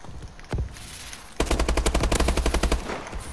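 Call of Duty Advanced Warfare gunfire: one sharp shot, a short pause, then a rapid automatic burst of about a dozen evenly spaced rounds, loud and close.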